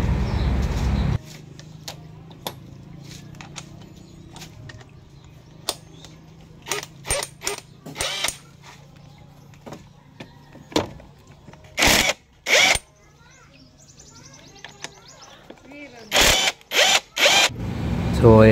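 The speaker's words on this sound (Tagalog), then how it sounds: "Gamit lang tayo dyan guys ng 8mm na socket guys, para patanggal natin yan" Sharp metallic clicks and ratcheting bursts of an 8mm socket wrench removing bolts, scattered irregularly across quiet stretches with a brief mechanical whir at the start, close and isolated.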